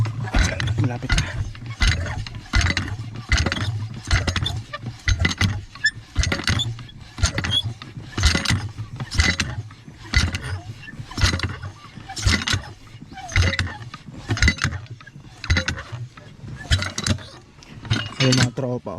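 Jetmatic cast-iron hand water pump worked in a farm field, rhythmic repeated squeaking and clanking strokes, close and loud, about one stroke per second throughout.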